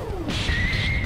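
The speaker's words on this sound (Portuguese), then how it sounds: "O carro tá se desmontando a 200 por hora" A car breaks apart at about 200 km/h in BeamNG.drive, a brief crunching crash over a steady engine roar, with a falling whoosh and a thin whine trailing off.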